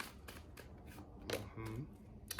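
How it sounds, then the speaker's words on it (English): Tarot cards being shuffled by hand, with several short, soft riffling bursts separated by brief pauses, heard quietly and close up. "I'm over here shuffling these cards and the 6 of Swords came back out"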